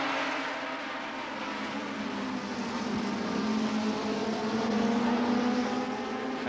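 Honda and Kawasaki racing motorcycles producing about 130 horsepower at Oulton Park in the 1982 ACU British Championship, a continuous high engine whine that holds steady and rises slightly in pitch, heard from a distance without talk.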